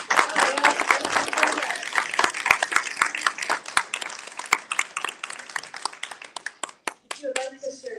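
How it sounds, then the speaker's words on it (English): An audience at a Unity Center of Des Moines gathering claps in a dense burst of applause that gradually thins into scattered claps and tapers off near the end. "give a round of applause"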